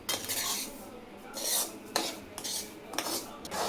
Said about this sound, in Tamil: இப்போ நெய்யிலே நல்லா, அதாவது கருகாமல் சும்மா லைட்டாக நம்ம வறுத்தா போதும்.